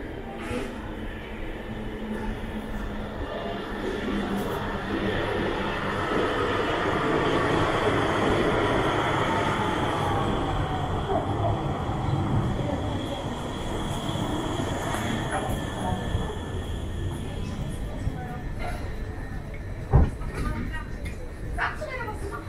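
A Cologne Stadtbahn light rail train arrives at Florastraße station with a steady rumble of wheels on rail and faint squeals, and a voice speaks over the noise throughout.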